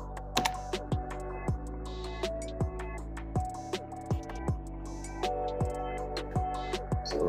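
Close keystrokes on a computer keyboard come as irregular clicky taps, roughly two to three per second, over a quiet steady hum with no talking.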